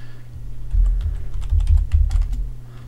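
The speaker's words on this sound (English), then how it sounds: "type in a message" A computer keyboard clatters in a quick run of close key presses while a message is entered, over a low steady hum.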